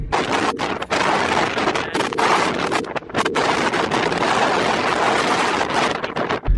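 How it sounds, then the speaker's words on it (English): Strong wind buffets the microphone in loud, continuous gusts, a steady roar with brief dips, no voices heard. "it's very windy"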